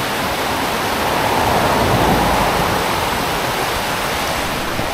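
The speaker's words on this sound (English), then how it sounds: "little waterfall right there" Mannix Creek Falls, a small waterfall in northern British Columbia, pours in a steady, loud, close rush of broadband water noise that holds even for the whole stretch with no voices.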